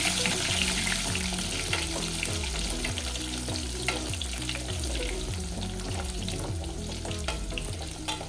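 Indian gooseberries (amla) roast in hot oil with a steady close sizzle and occasional stirring, running continuously under a tonal musical background.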